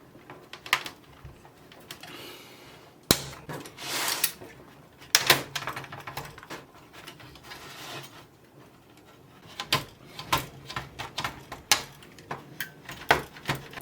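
Pliers work on a part inside a PS3 console, giving scattered sharp metallic clicks and clattering taps. Some come alone and others in quick bursts, close and fairly loud.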